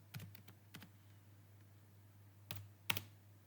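Close, quiet typing on a computer keyboard: a quick burst of several key clicks, a pause, then a couple more taps over a steady low hum.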